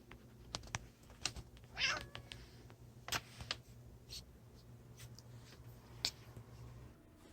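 A single soft cat meow rises in a quiet room, surrounded by scattered clicks and light taps.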